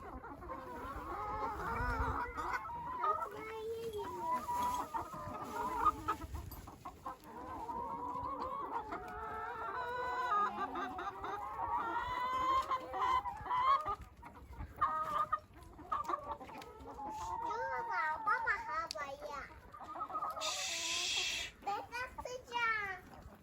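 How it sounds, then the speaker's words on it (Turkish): Hens cluck and squawk in irregular bursts throughout, while a child and an adult talk nearby over the flock. "tavuklar acıkmış mı annem?"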